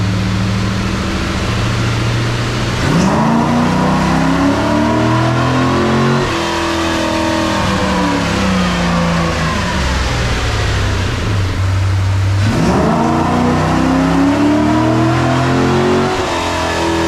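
Chevrolet Corvette engine on a dyno, revving up through rising pulls that drop and climb again, loud and continuous at close range with no talking.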